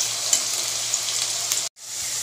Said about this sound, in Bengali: বেশ কিছুক্ষণ ধরে আলুগুলো তেলে দেওয়াতে লাল লাল করে ভাজা হয়ে এসছে প্রায়